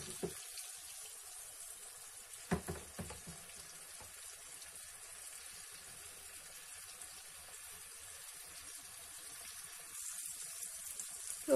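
Sucuk and eggs cook in a covered pan, a faint steady sizzle and hiss that runs throughout, broken by a few soft clinks near the start.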